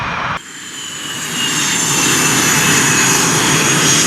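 Idling F-18 and Mirage 2000 fighter jets warm up on the ground at RAF Waddington, a steady, loud broadband roar with a high whine on top that swells slightly after a brief dip and holds continuously.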